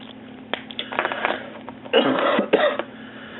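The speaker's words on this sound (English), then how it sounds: "Cough. You must have cold or something." A few short coughs and throat-clearing sounds, close by, in a couple of brief bursts over quiet background noise.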